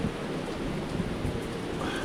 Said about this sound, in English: As you can see, the storm is still here